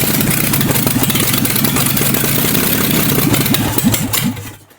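An American LaFrance V12 petrol engine cranks and catches, then runs loud and rough in a steady, dense roar close by before the sound cuts off at the end.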